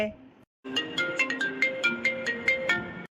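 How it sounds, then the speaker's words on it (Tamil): A mobile phone ringtone plays a bright, repeating melodic chime of quick notes, fairly close and clear, right after a brief bit of talk and a short pause. "என்ன ஃபோன் சவுண்ட் கேக்குது"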